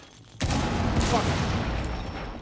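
A shotgun blast in Rainbow Six Siege, one loud sudden boom that rolls into a long, dense decaying rumble, with no talk over it.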